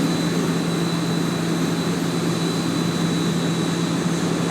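Airliner jet engines in a flight simulator drone steadily while taxiing to the runway at Dubai International, a loud, even whine with a constant low hum and a thin high tone.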